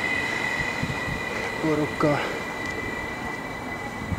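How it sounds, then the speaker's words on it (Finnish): A train passes near a station as a steady rumble of rail noise with a faint wheel squeal, and a person speaks briefly over the continuous low roar. "Sitten kun tyttö meni ohi, niin tulee juna."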